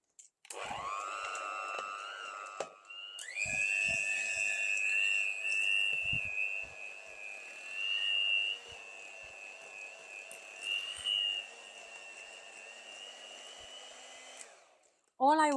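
A hand mixer whirs steadily as it blends sugar, butter and double cream for a chocolate cake, a continuous high motor whine lasting most of the stretch with slight pitch shifts before it stops abruptly.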